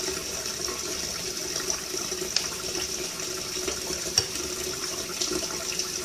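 Water runs steadily from a tap into a sink, a constant hiss with a few faint clinks, no voices.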